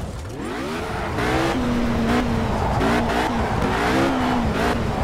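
A race car engine in the Project Cars racing game revs and climbs through its gears, loud and close, the pitch sweeping up and dipping between throttle bursts with a faint tire squeal and no talking.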